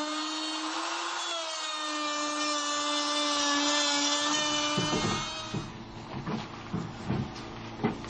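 A power drill screws down metal brackets onto the wooden rails of a DIY playhouse with one long, loud whine that rises in pitch. Lower knocking and rattling handling sounds follow near the end.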